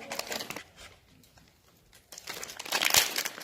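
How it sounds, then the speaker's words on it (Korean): Plastic packaging around a block of soap base crinkles and tears close up, two bursts of crackling rustle separated by a short quiet pause. "먼저 비누 베이스를 뜯어서"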